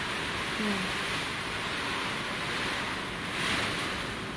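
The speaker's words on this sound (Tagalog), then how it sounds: "Pero ang lakas ng hangin." Strong typhoon wind carrying rain roars steadily across the microphone, a loud continuous rushing with gusts swelling and easing.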